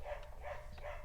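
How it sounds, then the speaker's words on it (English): A neighbor's dog barks three times in a quick, even rhythm, muffled and distant. "Sorry about the neighbor's barking dog."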